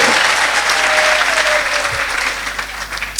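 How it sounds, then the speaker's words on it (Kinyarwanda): A church congregation breaks into loud, sustained applause that fills the room and tapers slightly toward the end, with a faint voice and a brief tone audible beneath the clapping. "Tuyikomera amashyi menshi Imana yacu"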